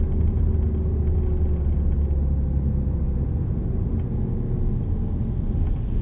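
A car in a driving lesson coasting after the accelerator is let off, a steady low engine and road rumble inside the cabin, continuous and even, with no voices.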